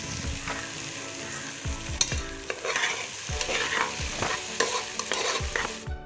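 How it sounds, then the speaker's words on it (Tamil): Beans and carrots with tomatoes are sautéed in a pan for a vegetable biryani, a steady sizzle broken by repeated scraping strokes of a spoon stirring, close and clear with no talking. "இன்னைக்கு நான் பீன்ஸும் கேரட்டும் சேர்த்திருக்கேன் இதையும் சேர்த்து நல்லா வதக்கி விட்டுக்கோங்க"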